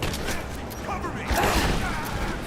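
Gunfire from the video game Rise of the Tomb Raider crackles in a dense, steady barrage alongside combat noise, with a louder burst about midway.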